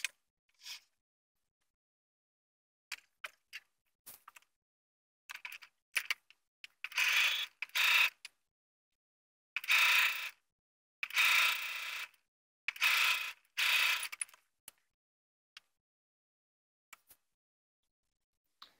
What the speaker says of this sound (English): then I'm going to stitch along this edge